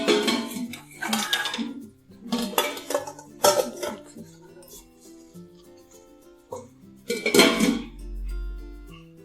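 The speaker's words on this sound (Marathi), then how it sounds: "आता आपण यावर झाकण ठेवून घेऊया." A metal lid set onto a steamer pot of dhokla batter, several close clanks and rattles of metal cookware coming in bursts, with someone talking between them.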